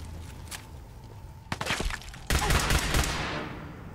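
A minigun in the Fallout 4 video game: a few scattered shots, then a dense, loud stream of rapid fire that starts suddenly and ends in a fading roar.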